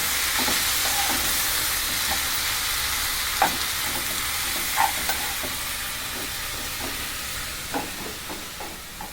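Methi leaves frying in a little oil for paneer methi curry sizzle steadily up close, with a constant hiss broken by scattered soft stirring scrapes and occasional clicks of a spoon against the pan; no voices.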